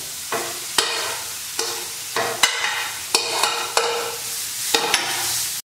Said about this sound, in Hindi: दोनों डाल दूंगी और इसको अच्छे से पहले सॉटे कर लूंगी